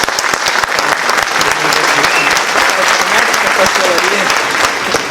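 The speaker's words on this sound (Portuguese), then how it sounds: "Uma salva de palmas, pessoal." A seated audience at a talk gives sustained applause for the speaker Sérgio Gomes, dense and steady clapping filling the whole stretch at close range with faint voices mixed in.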